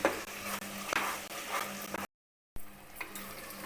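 Spices being stirred and sautéed in a pan for mutton gravy, a close scraping stir with light sizzling, broken by a brief half-second silence before the stirring resumes.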